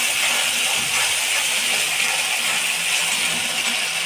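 A masala corn mixture with tomato sauce is sautéed in a pan over low flame, giving a constant close hiss of frying without pauses or talk.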